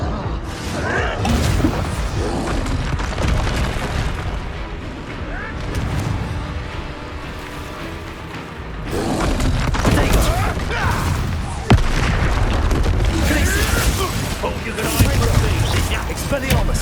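Rapid magical combat from the Hogwarts Legacy video game, with Confringo fire-blast spells bursting amid repeated booming impacts and crackling blasts, loud and dense throughout, dipping briefly in the middle before surging again with sharp explosive hits.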